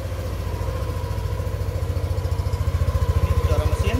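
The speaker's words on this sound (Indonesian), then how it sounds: "Ini suara mesin." A Yamaha Aerox 155 scooter with a cold engine idles close by just after being washed, a steady low pulsing putter that grows more pronounced and rhythmic toward the end.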